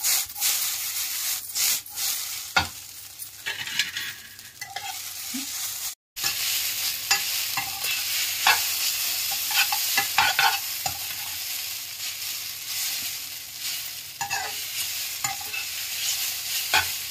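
Egg noodles fry in a hot pan with chilli sauce and soy sauce, a steady close sizzle broken by repeated scraping stirs and tosses, with one brief silent gap partway through.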